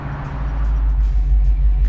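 A 1969 automatic Camaro with a Flowmaster exhaust idles nearby in a loud, steady low rumble that builds slightly and holds. There is no talk.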